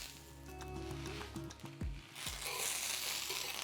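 Buttered bread slices set down on a hot grill to toast for croutons, giving a steady close sizzle that swells louder toward the end, with a couple of soft thumps as the pieces are placed.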